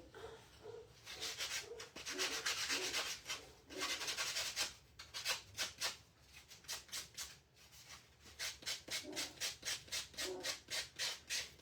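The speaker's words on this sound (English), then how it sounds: "sand off our edges a little bit" Wooden edges of a handmade farmhouse Christmas sign being sanded by hand: rough, scratchy back-and-forth strokes, longer at first and then quicker and more rhythmic, close up with no talk.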